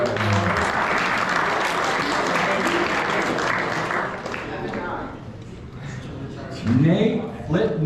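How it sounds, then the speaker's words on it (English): A banquet crowd at a high school baseball awards night applauds a player, a dense wash of clapping that fades after a few seconds, followed by talking in the room. "round of applause for Evan."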